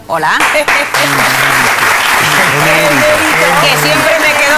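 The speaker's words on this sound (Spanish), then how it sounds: "ahora vamos a pedir un fuerte aplauso" A studio audience in a Spanish TV show bursts into loud, sustained applause, while a presenter talks over the clapping.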